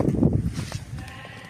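A young male goat with long ears, raised for Qurbani sacrifice, gives a loud, close bleat at the start that trails off into quieter, broken calls.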